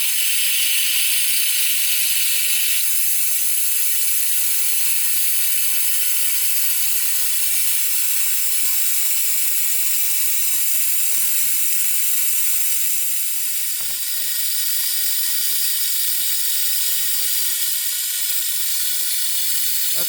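Shop air at 90 psi driving an AIRVAC coolant refiller to pull vacuum on a 2016 Toyota RAV4 cooling system, a loud steady high-pitched hiss of rushing air, continuous throughout with a few faint clicks.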